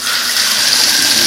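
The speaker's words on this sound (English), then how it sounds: "when you turn the water on" Water gushes steadily and loudly from a bathtub spigot, a continuous close splashing rush with no talk.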